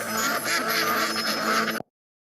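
A duck quacks in a rapid, continuous nasal stream, loud and close, before cutting off abruptly into silence.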